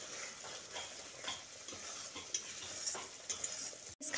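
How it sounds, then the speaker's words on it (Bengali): Masala paste for a light Bengali fish curry frying in oil in a pan, a steady close sizzle with scraping stir strokes from a spatula, with no talk. "দিয়ে মশলার সঙ্গে মিশিয়ে দিয়ে ভালো করে কষিয়ে নিচ্ছি"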